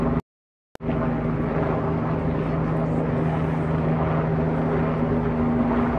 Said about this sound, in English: so I can go up to my helicopter